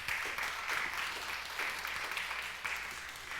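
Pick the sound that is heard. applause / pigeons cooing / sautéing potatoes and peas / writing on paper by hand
applause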